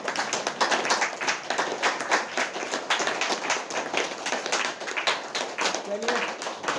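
Audience clapping loudly and steadily at a seminar, a dense run of many hands with sharp, rapid claps throughout, with voices briefly audible under the applause.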